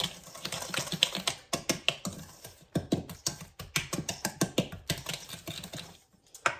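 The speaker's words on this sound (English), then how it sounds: "I'm going to use the whisk. Whisk all those things." A whisk stirs brown sugar, granulated sugar and other dry muffin ingredients in a bowl, making rapid, close clicking taps in quick bursts with brief pauses.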